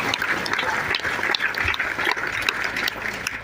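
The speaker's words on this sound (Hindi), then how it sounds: "पुनः तालियों की गड़गड़ाहट हम सभी कर रहे हैं" Applause from a camp audience at an ashram gathering, a dense steady patter of many hands clapping together throughout, with no talk over it.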